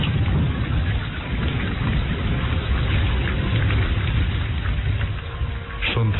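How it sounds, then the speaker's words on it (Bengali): Heavy rain pours in a dense, unbroken roar, with low thunder rumbling beneath it, played as a continuous, close storm sound effect for a drama. "শুধু যে বৃষ্টি তা নয়, সেই সঙ্গে কড়কড় করে বাজ পড়ার শব্দ।"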